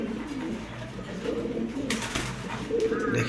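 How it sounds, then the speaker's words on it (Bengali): A large male pigeon coos close by, a few low throaty rolling calls over a faint background murmur, with a brief louder rustle partway through. "এটা হচ্ছে একটা নর কবুতর"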